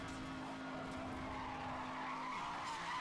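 Racing cars in the Need for Speed Hot Pursuit Remastered video game skid and screech with tire squeal over steady engine drone during a full wreck, a continuous dense mix of game audio at moderate level.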